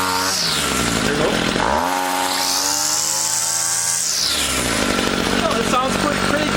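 A Ryobi SS26 gas string trimmer engine buzzes nearby, rising in a sharp rev, holding a high whine for a couple of seconds, then dropping back to a rough, steady idle.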